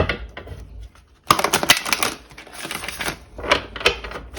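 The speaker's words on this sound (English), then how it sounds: "we'll just do one last shuffle here" After a quiet start, a deck of cards is riffled in a rapid crackling burst, followed by a few more quick flutters and taps.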